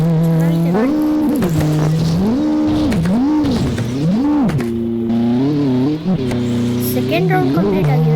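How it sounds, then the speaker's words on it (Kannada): A game car in CarX/CSX drives laps, its engine whining up and down through repeated rising and falling revs and gear changes, loud and close, with a voice talking over part of it. "ಗಾಡಿ ತುಂಬ ಚೆನ್ನಾಗೇ ಓಡ್ತೈತೆ"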